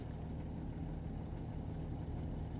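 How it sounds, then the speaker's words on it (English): A car engine runs steadily while driving, giving a low, even rumble that fills the background without pause and has no other clear sounds on top. "pardon the sound of the engine in the background"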